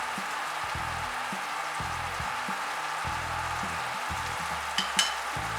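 Pork cubes with curry powder and masala sizzle in a pan over low heat for a Kenyan-style wet fry, a steady frying hiss with rhythmic scraping stirs and a couple of sharp clinks near the end.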